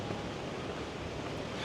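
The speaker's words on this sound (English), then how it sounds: "now it's getting windy again" Wind gusts roar steadily across a rainy beach in Da Nang, a broad, continuous rush of noise buffeting the microphone, fairly faint and without voices.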